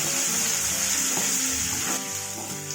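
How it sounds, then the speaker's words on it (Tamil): Onion and tomato sauté in hot oil in a pan for colocasia kulambu, giving a steady close sizzle with soft stirring scrapes throughout, no voices. "இப்போ வெங்காயம் தக்காளி நல்லா வதங்கணும்"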